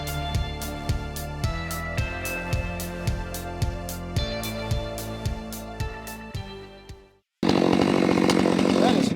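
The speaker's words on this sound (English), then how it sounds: "I was just kind of letting that saw fall down through the wood." A chainsaw bucks a red oak log for firewood, its engine holding a steady loud drone with rhythmic pulsing as the saw falls through the wood, briefly cutting out before restarting at full throttle.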